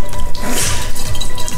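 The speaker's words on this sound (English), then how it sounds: "that water hitting the ice" Swamp frog punch poured over ice in a cup, a loud close splashing pour that hits the cubes with crackling and dripping.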